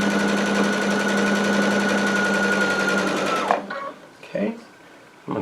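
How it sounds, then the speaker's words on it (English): A Baby Lock Altair sewing machine stitching down quilt binding runs at a fast, steady whir for about three and a half seconds, then stops, followed by a few soft clicks and handling sounds. "I'm going to sew it down to about right here where my finger's at."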